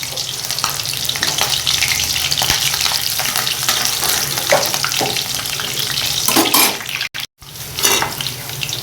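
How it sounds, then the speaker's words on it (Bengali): Fenugreek seeds and slit green chillies hit hot oil in a pan, giving a loud, steady crackling sizzle close by, with a brief dropout near the end before the hiss resumes. "তেল গরম হয়ে গেছে, এবার আমি এর মধ্যে দিয়ে দিচ্ছি মেথি ফোড়ন, কাঁচা লঙ্কা চিড়ে রেখেছিলাম দিয়ে দিলাম।"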